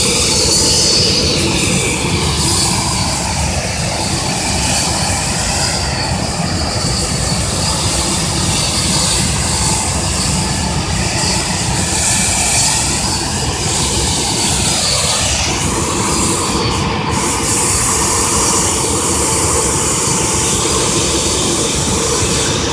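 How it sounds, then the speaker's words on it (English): An airplane engine starts up on the ground at Harrisburg International Airport before takeoff: a loud, steady broadband roar fills the whole stretch, with a brief dip partway through and no talking. "Starting the engine."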